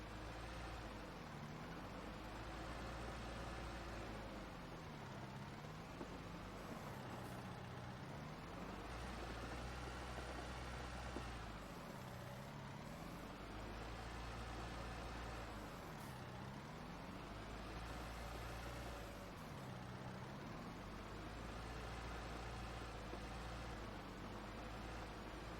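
An F550 dump truck with a new snow plow working in Farming Simulator 19, a steady low diesel drone with repeating dips and swells in engine pitch as it runs back and forth.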